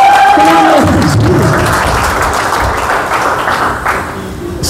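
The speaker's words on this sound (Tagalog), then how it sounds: "1 milyon palakpak para sa atin lahat." Audience applause at a motivational company talk: a voice fades out at the start as a broad, sustained wash of crowd clapping swells and continues steadily, fairly loud and close.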